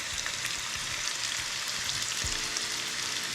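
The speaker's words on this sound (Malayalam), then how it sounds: "ഇനി ഇതിലേക്ക് നേരത്തെ ചതച്ചെടുത്തിരുന്ന ഇഞ്ചി വെളുത്തുള്ളി എല്ലാം കൂടി ഇട്ട് കൊടുത്ത് വീണ്ടും ഒരു 10 മിനിറ്റ് നേരം കൂടെ" Onions frying with crushed ginger and garlic for kaada biryani, a soft, steady sizzle with faint crackles throughout, heard alone without voices.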